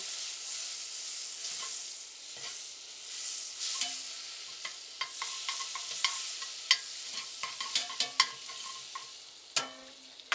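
Butter sizzles steadily in a hot pan with a soft, continuous crackle, punctuated by sharp clicks and taps of a utensil stirring and scraping, fairly close and with no talking.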